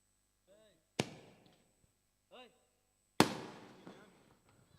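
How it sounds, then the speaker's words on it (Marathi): Two sharp firecracker bangs welcoming guests at an event, a couple of seconds apart, each with a ringing decay, while short bits of voice sound in between. "फटाक्याच्या घरात आतिषबाजीने सर्व पाहुण्याचं मात्र नक्कीच इथं स्वागत केलं जात आहे"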